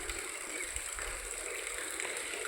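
Water pours steadily into a shared open farm well on a young coconut plantation near Udumalaipettai, a continuous rushing gush with gurgling, close and constant, with no talk over it.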